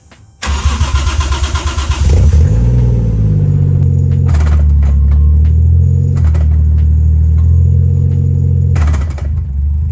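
A 1JZ-powered Fox Body drift car roars as the clutch is dropped, a loud engine burst swelling into a steady heavy rumble, with sharp bangs or clunks breaking through at intervals.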